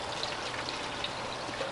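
Hot water runs steadily from a sink tap onto warped guitar wood from an early Romantic guitar, a continuous close splashing trickle with no talk.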